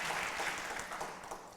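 An audience claps in a steady, dense applause, moderately close and filling the whole short stretch without pause.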